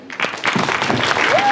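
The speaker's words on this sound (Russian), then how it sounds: "Овации." Brief burst of audience applause at a festival award ceremony, close and fairly loud, mixed with crowd noise and a short whistle-like tone near the end.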